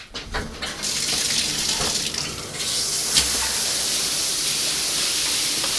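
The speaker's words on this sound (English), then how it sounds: "Have a shower there," Shower water runs steadily over a duck being washed, a loud, continuous hiss of spray with a brief splashy start and no talk.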